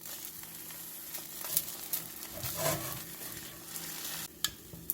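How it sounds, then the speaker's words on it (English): Egg whites cooking in a little oil in a frying pan, a quiet, even sizzle with occasional soft scrapes and a couple of clinks toward the end. "You want to cook the egg whites thoroughly."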